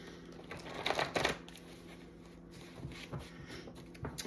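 Soft, papery riffling of cards being shuffled in a few brief bursts, close by and fairly quiet, with short pauses between them.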